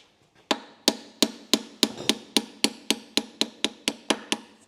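Steady hammer blows drive a pin out of a Sunbeam 1000hp gearbox in a workshop, about a dozen sharp metallic strikes at an even, brisk rhythm, close and clear, each ringing briefly with no voices.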